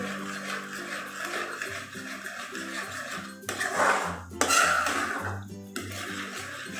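Sooji halwa with sugar and ghee is stirred in a pan over a medium flame, scraping and clinking against the metal with a few louder bursts of stirring near the middle.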